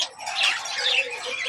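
Pigeons, including young high-flyer birds, call softly inside a coop: a faint, steady stream of chirps and murmuring coos with no voices over them.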